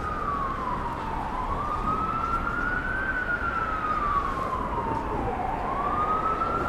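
An ambulance siren wails continuously on a New York City street, rising and falling in slow sweeps, loud and fairly close, with traffic rumble underneath.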